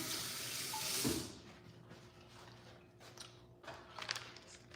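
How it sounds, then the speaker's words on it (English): A kitchen tap runs as hands are rinsed during a ravioli cooking class, a soft steady hiss of water that stops after about a second, followed by faint quiet handling noises. "Let me just rinse my hands off for a second."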